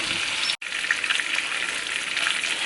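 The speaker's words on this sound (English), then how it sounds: "So I'm just gonna lay that steak right on in there, and I'm gonna let that beauty cook" A ribeye steak sizzles loudly in a buttered cast iron pan on a stovetop, with a steady close hiss and crackle broken by one brief gap before the frying resumes unbroken.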